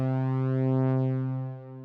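A synthesizer tone in Mixcraft, with a mod wheel sending CC1, holds one steady, harmonic-rich note alone for nearly two seconds. Its upper harmonics sweep gently, then it drops a little in level near the end.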